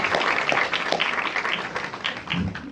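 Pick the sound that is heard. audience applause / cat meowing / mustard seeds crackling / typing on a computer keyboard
audience applause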